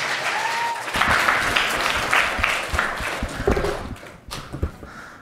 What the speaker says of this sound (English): Give him a round of applause as he comes out.